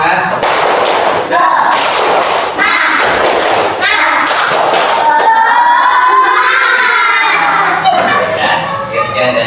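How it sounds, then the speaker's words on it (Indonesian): A classroom of children does a rhythmic cheer clap in a lesson on Asmaul Husna, with bursts of clapping and thumps mixed with kids' voices and shouting, loud and close. "Coba tepuk semangat."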